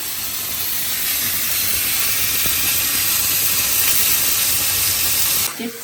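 Lobster sizzling on a hot griddle, a steady loud hiss with faint crackle that holds evenly before cutting off near the end.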